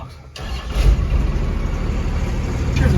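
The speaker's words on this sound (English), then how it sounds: "Now this exhaust does sound good." A Cummins diesel Dodge D200 crew cab truck fitted with a custom exhaust starts up and settles into a steady, rumbling idle after a brief quiet moment, loud and close with no talk.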